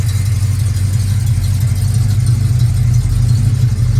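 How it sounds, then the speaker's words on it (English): A 1973 Dodge W200 4x4 pickup with a 360 V8 and stainless mufflers idles steadily close by, giving a deep, even exhaust rumble with no speech over it. "Stainless mufflers on it. No wonder it sounds so good."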